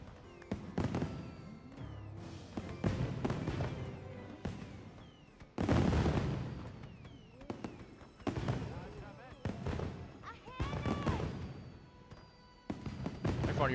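A fireworks show in Monster Hunter Wilds, with repeated booming launches and crackling bursts in irregular waves, some deep thuds and whistling streaks, mostly loud with a voice talking at times.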